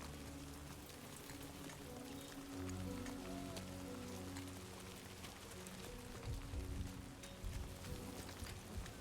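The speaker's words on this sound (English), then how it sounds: "Rain." Steady rain falls in a game world, a faint, even patter continuing throughout with a few heavier splashes toward the end.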